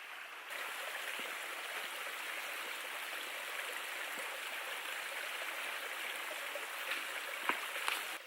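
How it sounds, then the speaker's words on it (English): A small river flows through a forest, its steady, soft rushing and babbling running continuously and evenly at a moderate distance, with a couple of faint knocks near the end and no talk. "here we have a little river"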